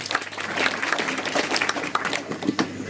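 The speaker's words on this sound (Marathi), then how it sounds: "भाऊंचा टाळ्या वाजवून अभिनंदन करूया" Crowd at a village cooperative society gathering in Miraj taluka breaks into warm applause for a local leader, a thick, continuous clatter of many hands with a few sharper claps standing out, fairly close and loud.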